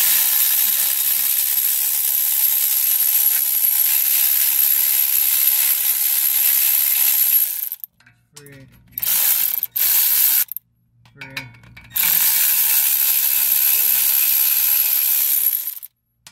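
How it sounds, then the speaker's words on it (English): A 3/8-inch drive ratchet clicks rapidly and loudly while backing out brake bolts during a 240SX to 300ZX brake conversion, with two long runs of clicking split by a few short bursts and pauses. "We're gonna take our 3/8 ratchet drive."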